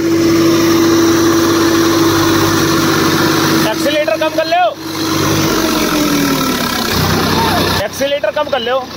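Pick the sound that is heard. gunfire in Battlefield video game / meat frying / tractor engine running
tractor engine running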